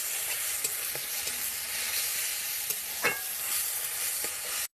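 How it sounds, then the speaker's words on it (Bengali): Bay leaf and whole garam masala frying in hot oil in a pan, a steady broadband sizzle with a few soft stirring scrapes and a brief clink near the middle, close and fairly loud with no one talking. "এখানটা একটু ভেজে নেব"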